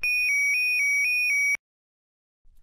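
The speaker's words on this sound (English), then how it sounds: "The two toned siren starts low but increases in volume as the treatment sequence continues." A wearable defibrillator vest's loud two-tone electronic siren alert pulses in a steady, repeating pattern for about a second and a half, then cuts off into silence.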